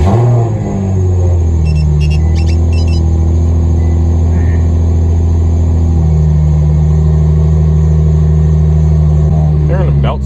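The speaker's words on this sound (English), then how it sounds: "I'm gonna go ahead and start the car and see if it runs a little different. I'm gonna rev it up" Nissan G35 with a rear-mount turbo, its engine running at a steady idle rumble close by, rising into a held rev partway through, with a faint voice briefly underneath.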